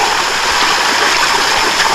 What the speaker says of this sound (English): I can't really get over to the falls.